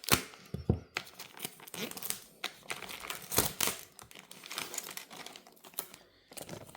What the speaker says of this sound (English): Let's cut open the plastic.